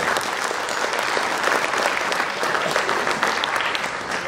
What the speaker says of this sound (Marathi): त्यांच्यासाठी आपण परत एकदा टाळ्या